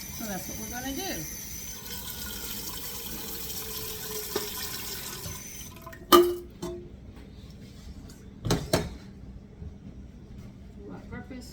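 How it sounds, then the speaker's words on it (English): Water is poured into a pot while making strawberry-lemon marmalade in a home kitchen, a soft running trickle under talk, followed by a couple of sharp clinks and knocks of cookware. "Now they want you to put water in here and bring this to a boil."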